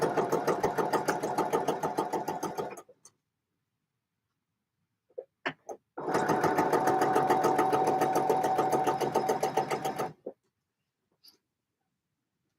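A sewing machine stitching a jacket runs in two bursts of rapid, even needle strokes, close and loud, separated by a pause with a few faint clicks.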